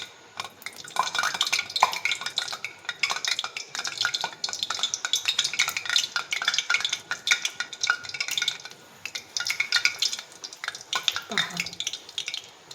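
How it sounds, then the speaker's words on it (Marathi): Ingredients for Ekadashi fasting food deep-fry in hot oil, a dense crackling bubbling sizzle with clinks and scrapes of a utensil against the pan throughout, close and busy, with a brief spoken word. "आधी मी तुम्हाला हे तळून दाखवत आहे."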